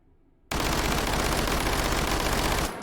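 An Uzi Micro submachine gun in the VR shooter H3VR fires full auto in one continuous, loud, buzzing burst of about two seconds. The burst cuts in sharply from near silence and ends just as suddenly.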